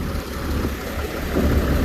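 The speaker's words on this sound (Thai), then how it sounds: "ฝนตกหนักมากครับพี่น้อง" Heavy rain pouring steadily in a downpour at an outdoor work site, a dense continuous hiss with low rumbling beneath, constant and fairly loud throughout.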